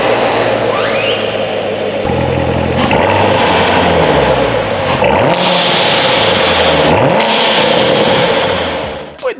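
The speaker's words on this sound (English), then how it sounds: "the last thing I loved on this one was the awesome muscular exhaust sound" A muscular car exhaust roars loudly as the car accelerates, with repeated rising engine sweeps between gear changes, up close and continuous before cutting off at the end.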